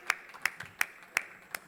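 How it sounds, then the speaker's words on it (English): Sparse, light handclaps from a small audience at a business panel session, about five evenly spaced sharp claps in under two seconds, thin and fairly quiet rather than full applause. "can we have a huge round of applause for him?"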